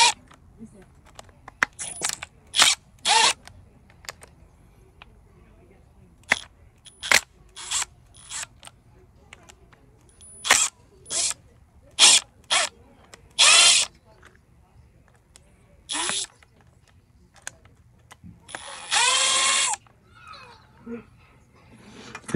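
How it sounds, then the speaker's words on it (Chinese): A cordless battery drill with a special bit unscrews special screws at a motorhome in Seattle on a rainy day, firing in repeated short whirring bursts of varying length between quiet pauses, with someone talking in between. "这种特殊的钉儿，你就得用这种特殊的头把它拧下来。"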